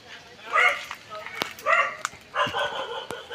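Dogs barking outdoors by a house yard: several short yips and barks in quick bursts, moderately close, with a faint voice in the background.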